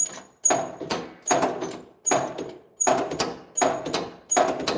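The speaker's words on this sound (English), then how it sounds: "Push the clutch here. Make sure it still squeaks." Truck clutch pedal squeaking as it is pushed, a loud close creak repeated about six times in a steady rhythm with brief pauses between strokes.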